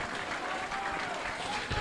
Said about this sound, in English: Dobbo gets a real round of applause here as he exits the pitch